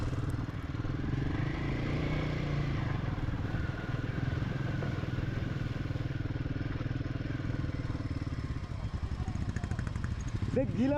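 Motorcycle ridden steadily through a water crossing on a high-altitude Ladakh road, a constant mid-range engine drone with splashing and clatter throughout, fairly close, and voices talking over it near the end.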